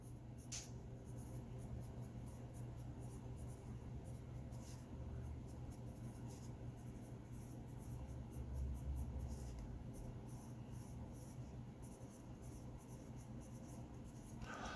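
A dull pencil scratches steadily across a sheet of paper, a soft continuous scraping that stays close and even throughout with no talking.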